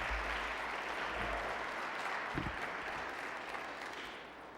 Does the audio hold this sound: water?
no